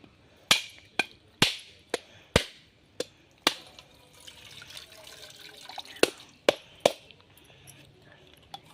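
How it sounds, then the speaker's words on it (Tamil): Coconuts being cracked open with a series of sharp, loud strikes, about nine hits spaced roughly half a second apart, followed by coconut water trickling and splashing between blows, close up with no talking. "இப்போ இதை வந்து உடச்சி தேங்காய் தண்ணி எடுத்துட்டு"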